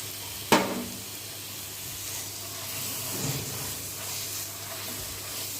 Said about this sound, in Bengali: গার্লিক এবং জিঞ্জারটা যখন বাটারের মধ্যে একটু ফ্রাই হয়ে গেছে, তখন আমি ঢেলে দিচ্ছি চিকেন কিমাটা।